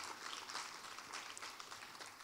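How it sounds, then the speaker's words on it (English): Conference audience applause on the closing day of a workshop: steady, dense clapping from a room full of people, heard from a distance and fairly faint, with no speech. "A round of applause to all of you."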